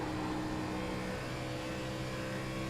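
A stock car from a Midwest Days of Thunder Cup playoff race at Kentucky runs steadily as the driver lifts off the throttle, a continuous, loud engine drone with layered tonal harmonics and no break across the clip.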